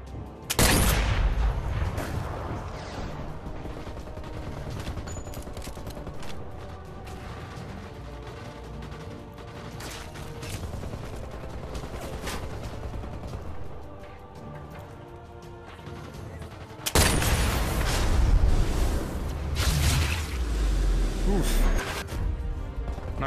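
Gunfire in Sniper Elite VR, a dense, loud stretch of shots and impacts with booming hits at the start and again near the end, with a voice talking over the action.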